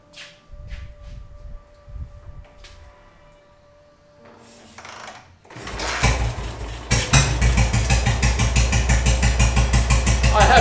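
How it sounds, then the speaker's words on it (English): A WW2 BSA M20 motorcycle is readied with faint mechanical clicks and knocks, then its single-cylinder engine fires and settles into a loud, close, rapid thumping idle. "I will open the fuel cock, and then I can start it."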